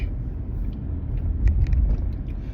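A car drives along a road with a steady low rumble from inside the vehicle, and the engine and road noise swell slightly partway through.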